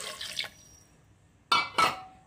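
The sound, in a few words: water poured into pressure cooker with potatoes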